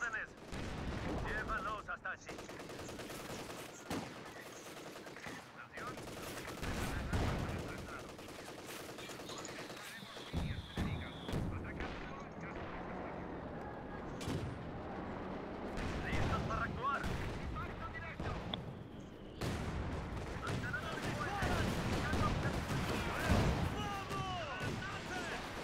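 Heavy gunfire and loud rocket blasts crack repeatedly in Company of Heroes 2 combat, with booming impacts scattered throughout and a voice talking in between.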